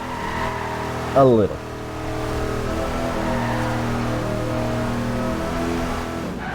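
A 1975 Ford Bronco Ranger engine revs hard during a handbrake-started drift attempt, a loud rising roar followed by a steady, strained drone; a voice speaks briefly over the engine.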